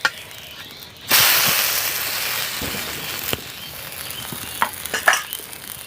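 A semolina and potato snack frying in oil, with a sudden loud sizzle as it is flipped that gradually settles into steady crackling, plus a few scraping clicks from the utensil. Close and without speech.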